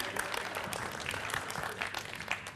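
Steady audience applause fills a motivational talk venue, a dense continuous patter of many hands at moderate level with no pauses.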